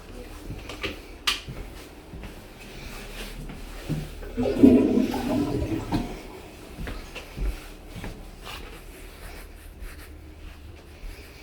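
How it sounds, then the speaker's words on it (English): Several toilets flushed one after another in a house bathroom during a septic system flush test, a swelling watery rush in the middle against low background noise and faint distant voices. "Just flushing a bunch of toilets."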